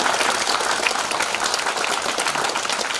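A seminar audience at a natural history museum talk gives dense, steady applause after a lecture, many hands clapping at an even, full volume for the whole stretch, with no voices standing out.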